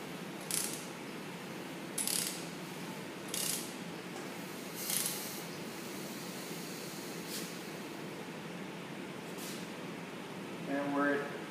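An engine crankshaft is turned by hand with a degree wheel fitted, rotating back to a piston stop: a few sharp mechanical clicks and ratchet-like ticks spaced a second or two apart, close and moderately loud over a steady low background hum.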